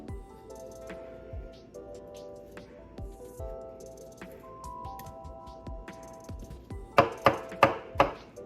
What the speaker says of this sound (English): I'm just gonna cut it in half, scoop the seeds out